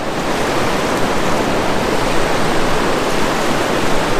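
Steady close rushing of a little trout river near Nanaimo, a broad even wash of moving water that holds constant throughout without talk.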